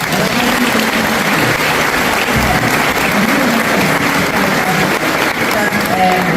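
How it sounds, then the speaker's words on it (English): Audience applause at a community event in Newtown, a dense, steady round of clapping that stays loud and continuous throughout, with a faint murmur of voices underneath. "We give them all a round of applause."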